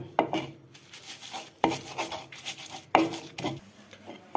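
Roasted eggplant being mashed by hand for bharta, a soft wet rubbing and squashing that repeats in slow strokes with a firmer press every second or so, close and fairly quiet.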